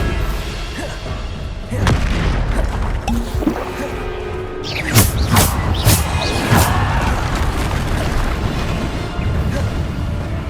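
In Hogwarts Legacy, Bombarda blasting spells go off as a string of heavy booms and crashing impacts, with debris and rumbling spell effects filling a loud, busy combat soundscape.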